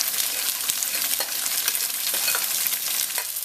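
Mushroom and tofu stir-fry in a very hot pan for Tibetan fried pies, a dense, loud, continuous sizzle with faint stirring clicks running through it.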